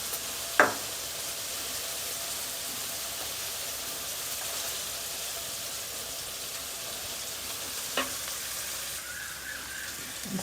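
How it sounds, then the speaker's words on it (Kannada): Steady frying sizzle from a pan of puffed rice upma as tamarind water is added, with two brief knocks or stirring taps standing out early and near the end; no voices. "ಇವಾಗ ನಾನು ಇದಕ್ಕೆ ಹುಣಸೆ ಹುಳಿನ ಹಾಕ್ತಾಯಿದ್ದೀನಿ."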